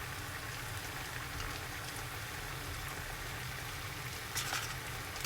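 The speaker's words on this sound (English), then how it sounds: "put them in boiling water." Noodles cooking in a pot of boiling water while seitan is prepared, a faint, steady bubbling hiss with a brief louder splash near the end, no talk.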